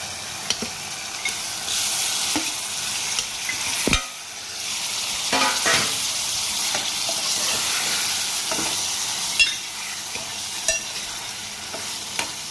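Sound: fish pieces frying in hot oil

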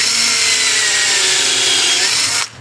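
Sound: drilling a hole in wood

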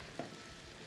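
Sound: stirring garlic frying in olive oil

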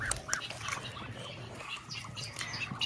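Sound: ducks quacking as a shamo aseel chick fights a duck

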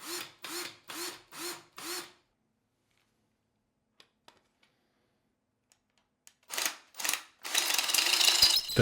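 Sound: drill spinning a square wooden peg

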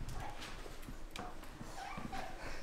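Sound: puppy whimpering and yipping

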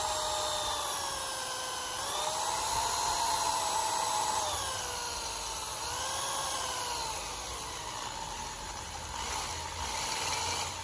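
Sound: drilling quarter inch holes in steel

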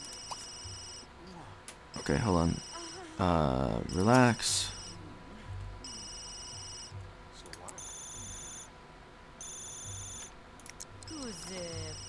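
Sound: phone ringing in video game The Sims 3

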